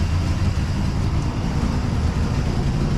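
A car engine idles low and steady, a continuous deep rumble close by with no voices.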